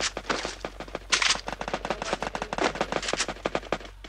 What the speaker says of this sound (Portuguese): Olha, tem um cara me atirando.